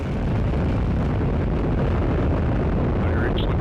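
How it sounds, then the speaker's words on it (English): Atlas V rocket liftoff carrying OSIRIS-REx from SLC-41 at Cape Canaveral, Florida: a continuous, loud, broadband rumbling roar with wind-buffeted crackle that stays steady throughout. "And liftoff of OSIRIS-REx."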